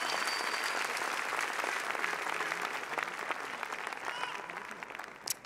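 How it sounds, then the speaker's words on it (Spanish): A church congregation applauds during a sermon, producing steady, dense clapping that holds at an even level and tapers slightly toward the end. "Alguien, un fuerte aplauso a la palabra del Señor."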